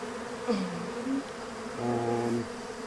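Dense, steady buzzing of many honeybees close by at a newly replaced hive, with individual bees droning louder as they pass near.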